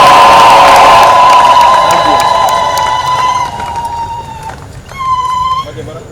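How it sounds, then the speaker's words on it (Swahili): Loud crowd at a Catholic blessing of a cathedral construction site, with high sustained ululation trills over clapping and cheering that gradually fade, then a short fresh burst of trilling near the end. "Makofi mengi sana na vigelegele."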